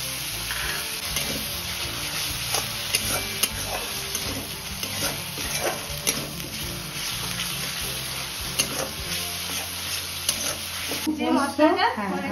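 Onion, garlic and ginger paste frying in oil with bay leaves and dried chilli for a spicy Bengali fish dish, a close bubbling sizzle with frequent stirring scrapes, and a voice speaking briefly near the end.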